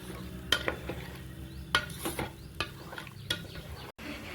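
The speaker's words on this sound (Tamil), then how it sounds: "நல்லா இப்படி கிளறி விட்டுருங்க." Mutton kulambu curry being stirred in a pan, a spoon scraping and clinking against the metal at irregular intervals over a soft, steady background simmer, close by with no talking.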